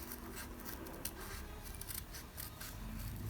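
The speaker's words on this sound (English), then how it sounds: "it's going to take me a while to fussy cut this head out." Scissors fussy cutting paper for a junk journal, a run of close, quiet, crisp snips in quick succession with faint rustling.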